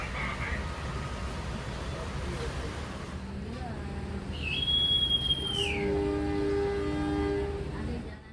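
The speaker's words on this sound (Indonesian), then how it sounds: "akhirnya kereta kita diizinkan melaju kembali" Passenger train pulling away after a stop, a low rumbling rolling noise building steadily, with a sustained high horn or whistle tone and squealing tonal lines partway through.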